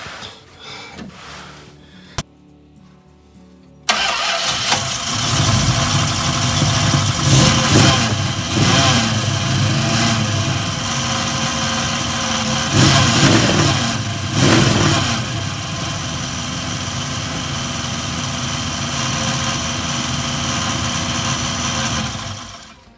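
A 1973 Dodge Dart Swinger engine cranks briefly after a short quiet, then fires and runs steadily at close range with rising revs and a persistent whine and rattle throughout, no talking over it.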